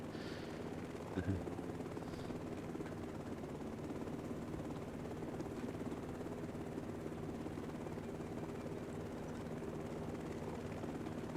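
A helicopter in a cattle-herding co-op video game gives a steady, faint rotor drone that continues evenly throughout.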